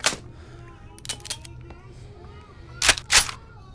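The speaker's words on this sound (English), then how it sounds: "You can clear out every single round until the gun is empty." Gunfire from a WW2 weapon in the VR game Gun Club VR: a few sharp broadband shots, one at the start, two more near the middle, and a louder close pair near the end, over low background hum.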